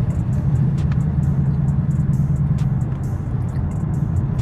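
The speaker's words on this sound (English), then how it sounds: "y'all can hear that Mustang, hear them pipes" A new Ford Mustang's exhaust pipes rumble steadily while driving, a loud, deep, continuous growl heard from inside the car with no break.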